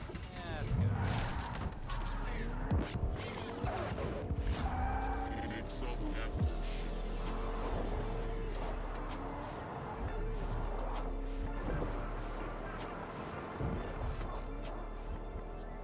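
Vehicle engine and tire skids from a truck driven in a video game, with a continuous low drone and repeated screeching slides under game sounds and occasional voice chatter.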